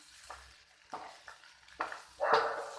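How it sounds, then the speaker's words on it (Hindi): Pasta is being mixed into a pan of pizza topping: a faint sizzle runs under five or six separate stirring scrapes, each louder than the last, with no voices. "और इसी के साथ में डाल दूँगी ये पास्ता और इसे भी मिक्स कर देंगे सारी चीज़ों के साथ"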